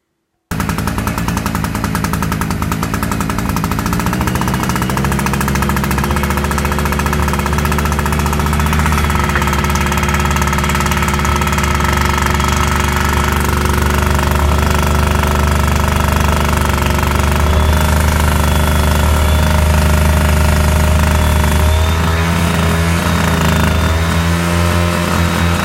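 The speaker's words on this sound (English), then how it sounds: "I'm gonna go try to start it now" Small 800-watt portable generator with a bad seal, engine catching and running steadily, a loud close, continuous rattling drone with a knocking, buzzing tone that shifts slightly near the end; no voices.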